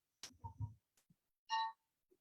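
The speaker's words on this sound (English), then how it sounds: "Would you like to ring the bell and adjourn the meeting, Jay?" A single bell rings once to adjourn a Rotary Club weekly meeting, a short bright clear tone following brief talk in a quiet room.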